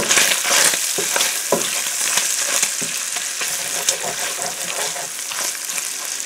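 Bacon frying in a pot gives off a steady loud sizzle with crackling pops and occasional stirring scrapes, close up.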